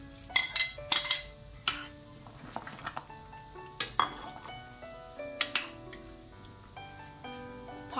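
Torn cabbage and sliced mutton go into a metal pot for lamb soup, with scattered clinks and clanks of utensils against cookware and a faint sizzle underneath, close and intermittent without voices.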